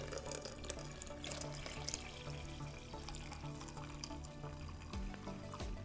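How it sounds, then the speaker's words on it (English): Water pours steadily into a glass French press coffee maker over ground coffee, a continuous close splashing fill that runs alone without talk and settles toward the end. "I'm going to go ahead and add the rest of my water"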